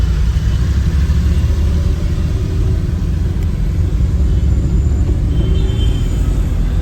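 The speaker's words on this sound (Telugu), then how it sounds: "So much traffic here." Heavy road traffic rumbles steadily throughout, a dense wash of car engines idling and revving nearby with no pauses and no clear single vehicle standing out.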